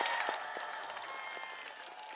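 Supporters applaud at a Korean presidential campaign launch event, a steady crowd clapping that stays fairly loud and even throughout, with no talk over it.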